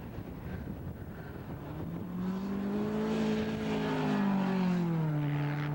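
Honda Del Sol race car revving near 9,000 RPM at an amateur racing event, a loud engine whine climbing and then falling in pitch as it passes close by, with other cars audible in the background.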